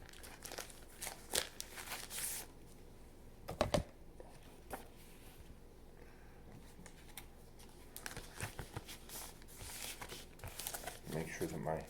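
A plastic bag being opened and tape peeled away, with soft crinkling, rustling and a few sharp tearing crackles scattered through, close by and fairly quiet, while someone speaks.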